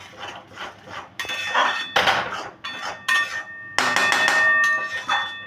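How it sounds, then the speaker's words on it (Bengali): Pointed gourd peel paste is scraped and stirred in a metal pan with a utensil, giving repeated close clanks and ringing metallic taps in an uneven rhythm. "জল শুকাবে, ততক্ষণ আমি এটাকে নাড়া দিয়ে দেবো"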